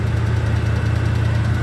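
A 1978 Chevy C10 truck idles after a cold start, its engine giving a loud, steady low rumble with an even pulsing throb and no talking over it.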